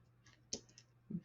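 A few quick, light keystrokes on a computer keyboard, close and quiet against a faint background hum.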